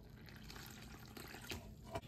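Warm water, about two cups, poured gradually into corn flour for tortilla dough, a soft continuous trickling and splashing close by, with a couple of brief louder splashes near the end.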